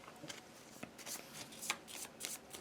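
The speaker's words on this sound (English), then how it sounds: "We get 1 Tactics card, which is right here, if you want to just quickly shuffle those." A small deck of Tactics cards for the Kingdom Death Monster board game being shuffled by hand, quiet crisp riffling bursts repeating irregularly, close and soft.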